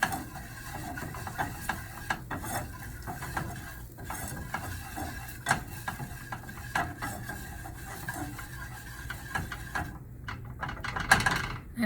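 A whisk or spoon scrapes and clicks steadily against a pan while a béchamel roux thickens on the stove, with faint sizzling beneath the repeated stirring strokes.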